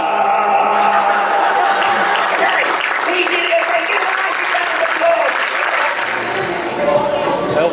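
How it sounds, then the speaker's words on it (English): Loud, continuous applause from a convention audience follows a magic act on stage, with scattered voices and cheers mixed into the clapping. "Thank you for a round of applause."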